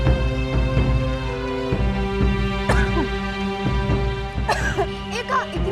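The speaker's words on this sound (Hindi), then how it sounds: "इतनी खांसी?" Repeated harsh asthmatic coughing and throat clearing over a loud sustained tonal drone, several bursts in quick succession.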